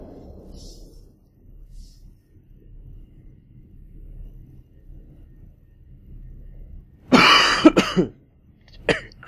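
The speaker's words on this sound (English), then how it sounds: "my coughing is getting worse" A person coughs harshly twice close to the microphone, a loud burst followed by a shorter one, after a long stretch of quiet low rumble.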